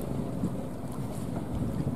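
A large wooden trawler from Ben Tre, about 24 metres long, approaching to dock beside another trawler, with a steady low engine drone under wind and water noise.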